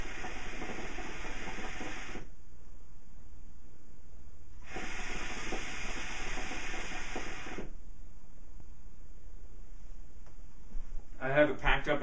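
Hookah drawing Starbuz Lebanese Bombshell mixed with AF Vanilla, packed in a Vortex bowl with Fantasia airflow coals: two long, steady hissing pulls separated by quiet, then a brief crackling burst at the end.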